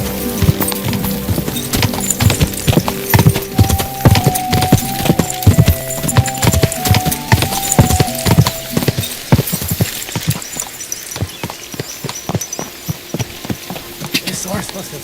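Horse hooves clip-clop in a quick, driving galloping rhythm in the video game Kingdom Come Deliverance 2, close and prominent, with a few tonal game sounds layered over the first half.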